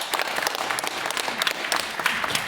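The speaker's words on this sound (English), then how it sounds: "let's give him a big clap" Audience applause for a presenter at a medical conference session on heart valve implant technique, a dense, steady wash of many hands clapping close together with no pauses, fairly loud throughout.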